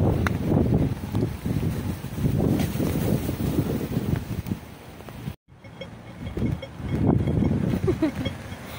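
Strong wind buffets the microphone outdoors with loud, rumbling, gusty bursts. One sudden brief dropout breaks it up partway through, and then the blustering continues.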